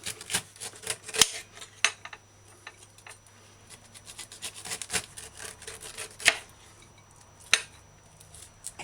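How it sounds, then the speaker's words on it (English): Knife cutting the skin off a pineapple, a series of crisp, irregular slicing snaps and scrapes up close, separated by quiet gaps, with no talk. "Cut in the pineapple 1/8 between 1/4 inch to remove the skin."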